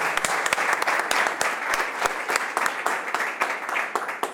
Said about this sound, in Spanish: Un aplauso a Con Olimpio